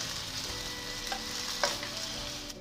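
Tofu frying in a pan as it is added to a simple stir-fried long bean and tofu dish, giving a steady, moderately quiet sizzle with a few brief louder crackles and no talking.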